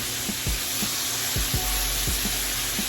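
Butter sizzles steadily in a pan for steak, a close, even hiss broken by a few soft knocks and scrapes.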